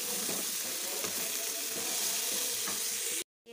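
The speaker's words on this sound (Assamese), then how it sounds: "আৰু ধুনীয়াকৈ ভাজি ল'ম।" Chicken frying with banana flower from the bhim kol plant in a pan gives a steady, loud, close sizzle with faint stirring scrapes, then cuts off abruptly near the end.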